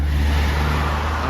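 Road traffic on a narrow stretch of road in a low dip, with a car passing close by, giving a loud, steady engine and tyre roar that barely changes across the moment.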